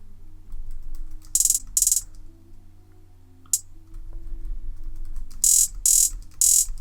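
A fast programmed hi-hat pattern in Ableton plays in short crisp bursts of rapid ticks separated by gaps, bright and close over a low steady hum.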